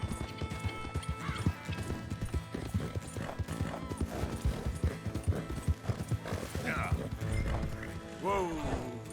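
Horses trot in Red Dead Redemption 2, with rapid, irregular clip-clop hoofbeats close by, a whinny near the end, and someone talking over the hooves.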